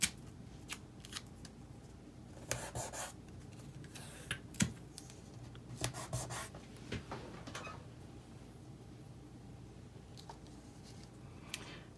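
Tape being pulled and pressed down to hold paper in place for angled stamping on a craft desk: scattered short crackles and rips with soft handling taps, fairly quiet, no talk.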